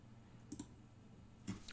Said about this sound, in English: Now you can do Control and F on your keyboard